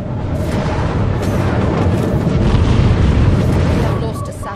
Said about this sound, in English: Ship is under fire.